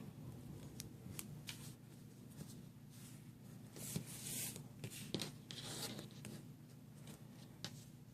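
Scissors snip through the cover of a small handmade mini book, producing a few short, faint, close cuts mixed with light paper rustling and handling noises, and no talking.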